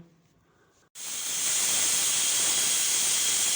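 A pressure cooker of mustard greens on full flame lets out a loud, sustained steam hiss that bursts in after a second of near quiet and keeps going steadily to the end, close and alone.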